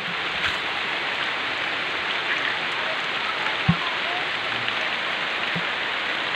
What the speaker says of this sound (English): Now catching in the rain.